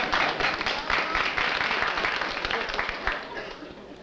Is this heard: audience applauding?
yes